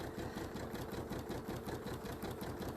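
A sewing machine stitching fabric pieces cut on the bias, running steadily in a fast, even mechanical rhythm close to the microphone with no pauses.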